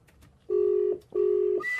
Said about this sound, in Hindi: अब उसी डॉक्टर को फोन मिला रहे हैं हम।